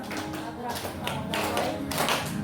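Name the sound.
class clapping along to a song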